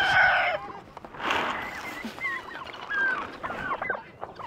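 Several chickens cluck and squawk excitedly nearby at feeding time, overlapping calls with a louder squawk at the start and steady chatter throughout.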